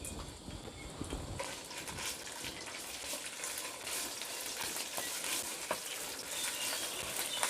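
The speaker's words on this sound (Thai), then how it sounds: "เราก็จะมา ผัดเครื่องแกงกันเลยนะคะ" Steady crackling sizzle of Thai curry paste for frog stir-fry frying in hot oil in a wok, with occasional scraping clicks of stirring, close and continuous throughout.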